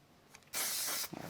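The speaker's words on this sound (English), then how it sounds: "I'll just use a bit of spray glue on it." A single half-second hiss of spray glue onto paper backing for a gate fold card, preceded and followed by faint handling sounds.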